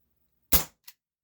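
A single sharp shot from a GAMO PT-80 air pistol, loud and close, with a quick decay and a faint short echo or click just after; no talking.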